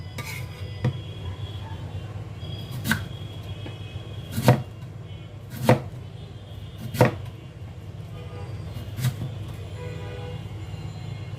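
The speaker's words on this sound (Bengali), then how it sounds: "এই কাটার দিয়ে খুবই জটফট এগুলি কেটে ফেললাম" Vegetables are chopped with a kitchen cutter, giving six or so sharp, well-spaced chops over a low steady hum, moderately close.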